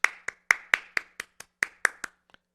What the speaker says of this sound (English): We needed that Chris, round of applause